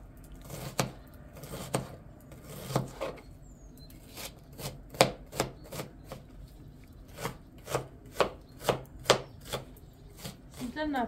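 A knife finely chops food, likely onion, on a board, a steady run of sharp, close taps with a few short pauses, no voices.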